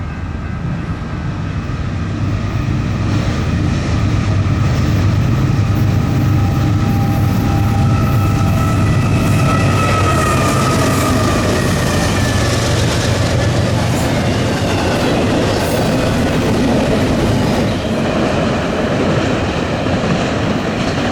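A Norfolk Southern freight train heading east on the NS Chicago Line rolls past close by, a loud steady roar of wheels and cars with rhythmic clacking and faint squeals, sustained for the whole stretch without any talk.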